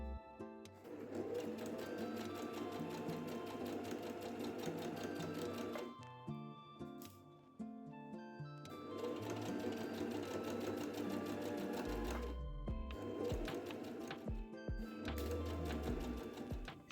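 A sewing machine sews tote bag seams in close, steady runs of rapid stitching. Two long stretches are broken by short pauses with light handling clicks, and a final burst of stitching follows. No talking is heard.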